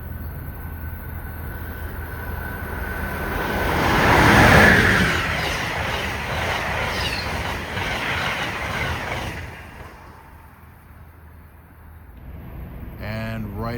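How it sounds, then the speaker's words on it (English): Amtrak Northeast Regional 93 train arriving fast at a New Jersey station, a broad rushing roar that swells to a peak as it passes close, then fades, ending with a horn-like tone; a voice speaks over it. "Northeast Regional 93 is on the move, and it's coming in fast."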